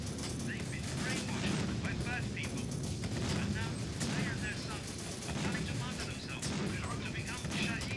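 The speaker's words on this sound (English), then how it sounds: "we're also firing with mortars from the rooftops here" Mortar and gun fire in the war strategy game Syrian Warfare, a dense continuous clatter of shots and blasts that runs loud and steady throughout, with indistinct voice-like sounds mixed in.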